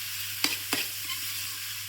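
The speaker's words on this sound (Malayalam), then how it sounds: "അതിനെ ഒന്ന് വഴറ്റിയെടുക്കണം." Sliced onion with salt being stirred in a pan for a Kerala kappa and fish curry meal, a soft steady sizzle with two distinct spoon scrapes near the start and a low hum underneath.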